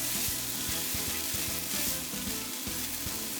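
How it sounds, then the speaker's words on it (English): Ground beef and garlic sauté in a pan for spaghetti meat sauce, a soft continuous sizzle with a regular run of light scraping stirs, fairly quiet and close, with no talking. "go ahead and add the beef back in, and go ahead and give this a good stir"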